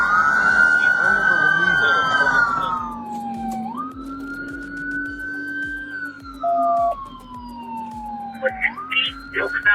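Police car sirens wail loudly during a chase, the tone sweeping and wavering across the whole stretch over steady traffic rumble, with brief voices cutting in near the end.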